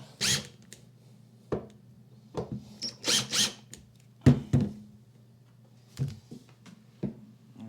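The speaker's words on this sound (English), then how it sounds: "loosen these retaining screws and see if we can't freely rotate the flange" Retaining screws are loosened on a toilet flange, heard as short bursts of ratcheting and scraping tool noise spaced irregularly, close and fairly quiet against a low steady hum.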